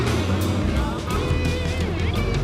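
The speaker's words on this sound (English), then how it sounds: "The right amount of revs, torquing their way through." A modified off-road truck in the Tuff Truck Challenge grinds over rocks, its engine held at steady revs, loud and close, under a commentator's voice.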